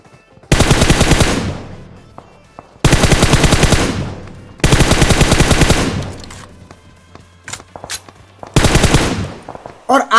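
Four loud, rapid bursts of automatic gunfire from the mobile battle-royale game PUBG Mobile, each lasting a second or more and separated by short gaps, with faint clicks and effects between bursts.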